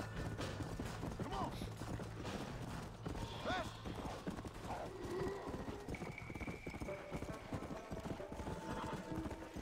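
Horse hooves gallop in the video game Red Dead Redemption: Undead Nightmare, a rapid, steady clip-clop running the whole time, with a brief whinny and someone talking over it.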